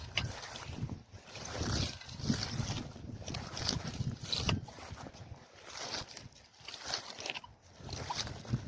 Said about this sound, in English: It's really, really super windy.